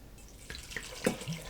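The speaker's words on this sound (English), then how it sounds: "I'm going to add enough water to cover, about an inch over." Cold water poured from a tap into a pot of chopped vegetables, a faint soft splashing and trickling with a few small drips.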